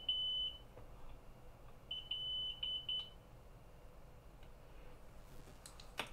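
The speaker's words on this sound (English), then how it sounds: "Apparently I had an alarm set." An alarm goes off with short, high electronic beeps, first a single tone and then a quick cluster of repeated beeps, fairly faint over a low background hum.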